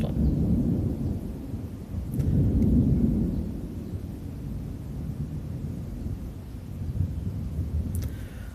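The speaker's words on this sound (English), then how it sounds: "You're probably gonna hear the thunder sometime soon because it looks like it's about to storm." Low distant thunder rumbles outdoors as a storm approaches, a broad steady roll swelling twice and then fading, with no one speaking.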